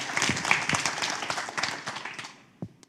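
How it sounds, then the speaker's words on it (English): Conference audience at a cell-cultured meat investment panel applauds with dense, moderate clapping that gradually fades, ending with a single louder knock or thump near the close. "let's give it a round of applause for that"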